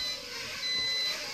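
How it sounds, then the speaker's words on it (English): A faint, thin electronic beep from a Holy Stone HS170 Predator mini quadcopter in headless mode, held as a steady tone over soft background hiss, brief and continuous rather than pulsed. "It tells you it's in the headless mode when it's beeping like that."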